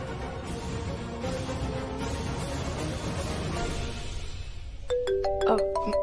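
A phone ringtone starts near the end, a bright repeating electronic melody rising over a busy background of murmuring voices.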